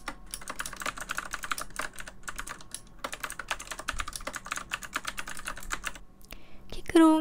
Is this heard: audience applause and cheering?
no